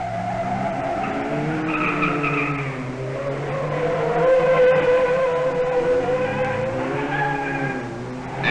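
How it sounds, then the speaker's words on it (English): Rally cars race on a circuit, including Works Sunbeam Rapiers and a Mercedes, with engines droning and shifting pitch as they pass close by, steady and loud with rising and falling tones and some tire squeal. "Graham Hill now catches Noel's Mercedes."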